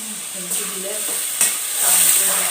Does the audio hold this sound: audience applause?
no